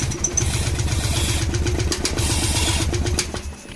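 A motorcycle with a malfunctioning fuel injector is started and runs in a rough, rapid chug, loud and close, its pulsing note wavering before trailing off toward the end.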